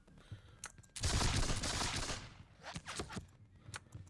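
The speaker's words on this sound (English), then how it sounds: "exchanging very long-range musket fire with some of these lot" Massed musket fire in a Seven Years War strategy game battle at Zorndorf, a loud rolling volley swelling over about a second, then scattered sharper shots trailing off, with no talk.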